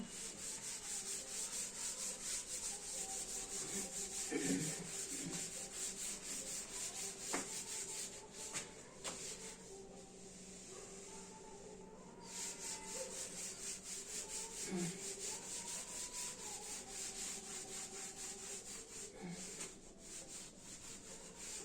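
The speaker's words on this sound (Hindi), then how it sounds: "इसको मैं रब कर देता हूं।" Writing being rubbed off a board with long, steady, faint rubbing strokes that run on with short pauses, no talking.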